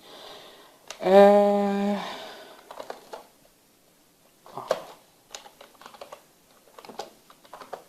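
A computer keyboard clatters in Windows Command Prompt while a Java version command is typed. A brief voiced sound comes first, then sparse, uneven key clicks close to the microphone.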